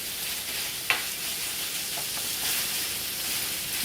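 Ground meat fries in a pan on a stove over medium-high heat for taco salad. A soft, even sizzle runs throughout, broken once by a small sharp click, with no talking.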